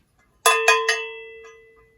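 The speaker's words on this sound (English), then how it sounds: "So this is a cowbell. Cowbells are great. They are clanky, they're loud, they make sound, but they don't sustain sound." A metal cowbell struck three times in quick succession, each bright clanky hit ringing briefly before the tone fades away fast, close and loud in otherwise silent surroundings.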